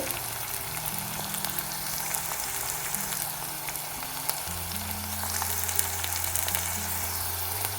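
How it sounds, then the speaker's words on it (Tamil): Garlic sautés in a pan with onion and curry leaves for a Tamil tamarind curry, a steady close sizzle and crackle of frying oil with occasional stirring, continuous and even. "அடுத்தது பூண்டு கொஞ்சம் வதங்கட்டும்"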